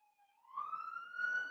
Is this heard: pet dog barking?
no